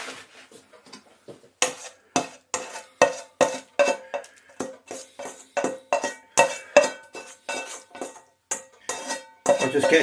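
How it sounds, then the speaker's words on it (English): A metal utensil repeatedly scrapes and clinks against a wok while stir-fried chicken noodles with peppers and mushrooms are served out, giving a steady series of sharp, close metallic knocks. "I'll just get as much of the noodles and the ingredients from the wok."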